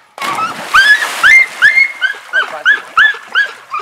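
Dogs at a dock diving event leaping off a dock into water, with a run of excited barks or yelps repeating steadily, loud and close, over open outdoor ambience.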